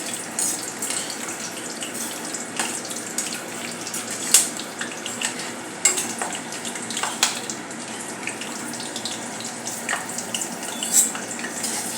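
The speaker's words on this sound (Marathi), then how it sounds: "आता आपल्याला तळायचं आहे मिरची. या सोबत मिरची, हिरवी मिरची तळून खूप सुंदर लागते." Green chillies fry in hot oil beside spinach bhaji, giving a steady bubbling sizzle broken by occasional sharper pops and crackles, close and continuous with no talking.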